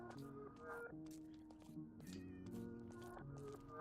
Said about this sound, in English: There's a cat in here. It's a black cat.